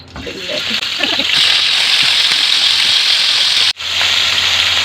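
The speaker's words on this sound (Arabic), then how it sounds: "حطيت انا الزيت والسمنه على النار اهو، وسخن خالص وسيحت السمنه، سامعين؟" Shish tawook chicken goes into hot oil and melted ghee in a pan, setting off a loud, steady, crackling sizzle that swells after a moment and keeps going, briefly cut near the end.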